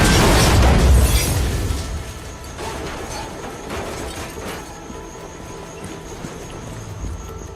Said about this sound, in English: we have a powerful charge pulse that blasts objects apart when they meet.